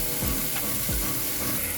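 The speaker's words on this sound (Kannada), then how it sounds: "ಈಗ ಉಪ್ಪು ಹಾಕೊಂಡು ಚೆನ್ನಾಗಿ ಫ್ರೈ ಮಾಡಾತೀನಿ ರೀ" Tomatoes with salt fry in a pan, a constant hissing sizzle broken by two scraping stirs of a spatula.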